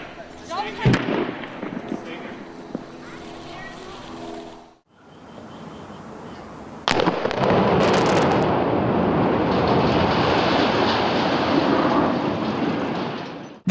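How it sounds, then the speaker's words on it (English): A massive smokestack in Ohio is demolished and falls onto power lines: a sharp blast and crackling pops, then a louder crash that settles into a sustained roaring rumble, heard from a distance. "The poorly executed demolition of a massive smokestack in Ohio caused it to fall onto power lines."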